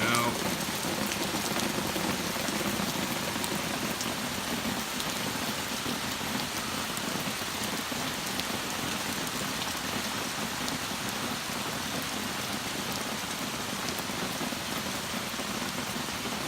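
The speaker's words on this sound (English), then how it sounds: "that noise you're hearing is all the rain" Torrential rain pours steadily and loudly without a break, a dense, even hiss of heavy drops on surfaces close by, with no voices.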